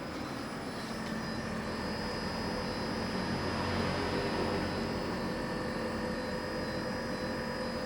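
A steady, even hum of a running Sharp AH-XP6UHY inverter air conditioner's outdoor unit, constant and moderately quiet with no change or voices throughout.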